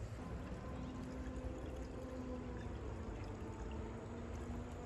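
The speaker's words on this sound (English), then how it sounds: "So we're gonna go flush out this radiator" Water running and pouring as a flush clears old gunk out of the radiator of a 1986 Mustang SSP, a faint steady gush and trickle with no break.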